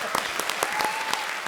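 Studio audience applause on a television comedy show, a brief burst of dense clapping alone for under two seconds with no talk.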